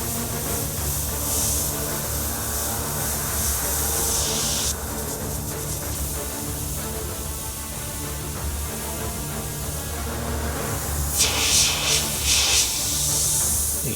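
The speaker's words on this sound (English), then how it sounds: "can deepen some of these shadows around the teeth just by using my airbrush freehand" Airbrush spraying paint freehand onto a skull graphic, a steady close hiss that cuts off briefly and then resumes, alone without talk.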